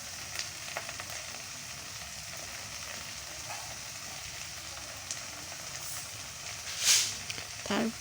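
Red amaranth greens fry in a pan with salt and turmeric, giving off a steady soft sizzle while they are stirred, with occasional scraping clinks and a louder burst near the end.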